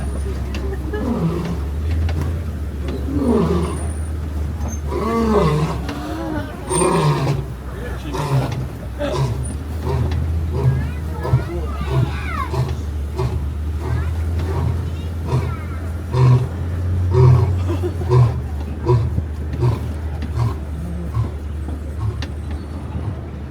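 A male lion with a tan mane roars on a safari ride at Animal Kingdom's Kilimanjaro Safari, a series of deep rhythmic grunting roars repeated over many seconds, with people talking quietly and a vehicle idling beneath.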